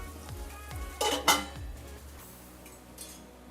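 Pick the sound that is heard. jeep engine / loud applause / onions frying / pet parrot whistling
onions frying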